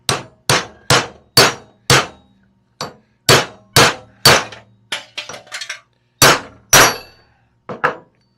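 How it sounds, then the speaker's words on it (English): Spindle bearings being hammered into a Dana 60 kingpin axle, about a dozen sharp metallic blows, close and loud, in uneven bursts with short pauses and a few lighter taps between. "I'm just going to knock them in the same way I knocked them out."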